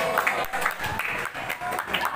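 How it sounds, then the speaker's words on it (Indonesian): An audience at a school student council (OSIS) leadership seminar claps for the speakers, a continuous wash of hand claps under a busy hall ambience for a couple of seconds. "Tepuk tangan dulu untuk pemateri yang hari ini dan hadir di sini."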